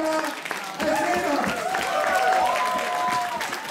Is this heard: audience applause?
yes